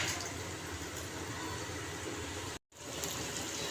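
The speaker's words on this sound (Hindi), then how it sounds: "2 से 3 गिलास मैंने इसके अंदर पानी डाल दिया।" Water is poured from glasses into a cooking pot to make a desi chicken shorba broth, a steady close rushing splash that runs for a few seconds, stops briefly, then resumes, with no talking.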